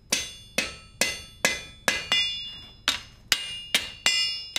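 Blacksmith's hammer striking a heated iron wagon tire to forge-weld it, about ten sharp ringing metallic blows at an uneven, roughly half-second rhythm, close and clear with no talk.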